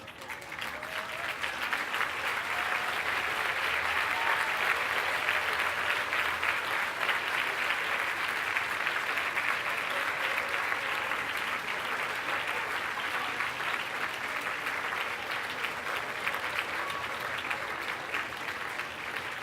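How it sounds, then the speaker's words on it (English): A large crowd at a medical school white coat ceremony applauds steadily, a dense sustained clapping that swells quickly and holds for the whole stretch. "give your families a round of applause"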